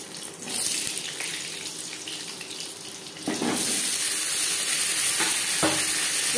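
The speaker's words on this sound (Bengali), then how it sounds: "4-5 মিনিট আলু ভেজে নেওয়ার পর" Potatoes fry in hot oil with bay leaf and panch phoron, a loud close sizzle that surges as stirring scrapes come and go, growing stronger midway with no speech.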